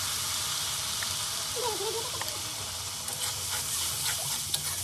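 Spice paste tempered with cumin sautés in a pan for prawn malai curry, giving a steady bright frying hiss with a few soft stirring scrapes and light clinks near the end, close and without talk.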